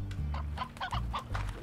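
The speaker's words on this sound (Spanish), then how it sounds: "Qué gallinas." Chickens cluck over and over in the video game Slime Rancher, a run of short, close hen calls over a steady low in-game drone and background music, with no voices.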